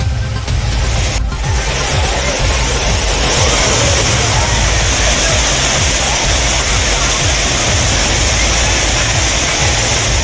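Water thundering down the Courtallam falls, including the Main Falls, Old Courtallam, Five Falls and Tiger Falls, as a steady, loud, close broadband roar that runs unbroken throughout with no break or voices.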